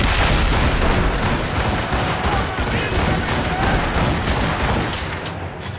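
Ship cannons firing in the video game Assassin's Creed Rogue, a dense, continuous barrage of booms and shots under battle noise, with voices shouting over it.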